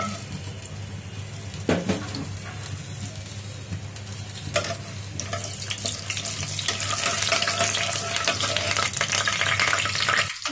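Bay leaves, black cumin and mace dropped into hot oil crackle and sizzle, the hiss swelling louder and denser toward the end, with an occasional stir.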